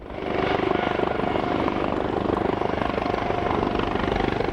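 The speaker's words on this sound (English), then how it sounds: "We're landing helicopters out here on the highway." Loud, continuous rhythmic thudding of helicopter rotors close by over a flooded highway during Hurricane Floyd, a steady chopping drone throughout.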